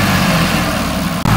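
A tractor engine runs steadily and loudly while the tractor sits stuck in floodwater, a low continuous rumble with a brief dropout near the end.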